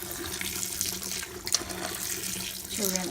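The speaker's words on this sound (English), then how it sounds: "And then I'm just going to rinse it again, I'm using my water, my other water" Kitchen tap running steadily into a sink while menudo tripe is rinsed, a continuous hiss of flowing water with a few splashes and a brief gurgle near the end.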